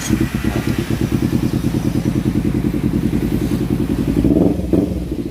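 A Kawasaki Ninja 250FI motorcycle engine runs at a steady, rapid idle with an even throbbing pulse, loud and close, swelling briefly near the end with no voices.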